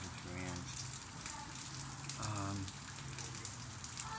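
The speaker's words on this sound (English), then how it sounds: "It's raining right now." Light rain falls and drips onto the ground outdoors, a soft, steady hiss heard faintly under intermittent voices talking nearby.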